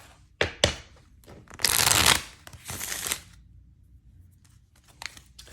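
Tarot cards are shuffled by hand, close up: a few crisp riffles and longer bursts of rapid flicking, then a quieter stretch with light taps and slides, and no voices are heard.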